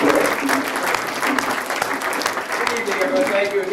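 Audience at a labor awards reception applauding Tom, with steady, dense clapping filling the room for nearly four seconds while voices talk over it.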